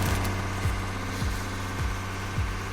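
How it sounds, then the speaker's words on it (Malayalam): A houseboat's engine drones steadily on the Kuttanad backwaters, a low continuous hum with faint regular thumps, heard alone at moderate distance. "അവിടെ നിന്ന് ഒരു ഹൗസ് ബോട്ട് വരുന്നുണ്ട് കേട്ടോ."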